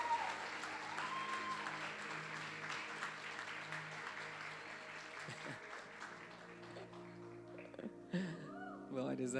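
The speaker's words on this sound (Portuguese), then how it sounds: "Uma salva de palmas para estes santos em Cristo." A church congregation claps for newly welcomed members during a Christian service, soft and distant applause that fades out as it goes on.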